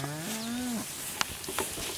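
A heifer or Jersey steer gives a single clear moo close by, rising then falling over most of a second, followed by a few faint knocks and shuffles from the herd.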